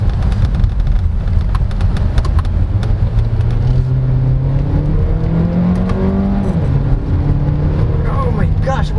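A 2023 MG GT Sport accelerates hard, its engine note climbing steadily in pitch under loud, constant road and wind roar, with a voice heard over it.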